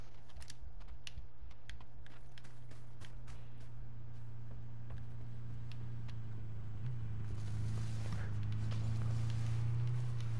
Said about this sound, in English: That vehicle's coming back from the east.